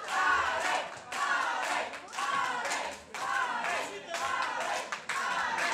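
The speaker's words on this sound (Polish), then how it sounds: "Wielkie brawa dla nich, wielkie brawa dla Państwa" Audience applause after a dance performance at a charity concert in Zakrzewo: dense, steady clapping from a crowd that fills the whole stretch, swelling in waves, with some voices mixed in.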